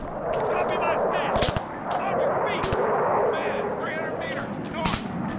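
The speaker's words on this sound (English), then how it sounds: "Where'd that shot come from?" Gunfire in the Arma 3 video game sounds as several sharp cracks and whip-like reports against a steady engine rumble, with someone talking throughout.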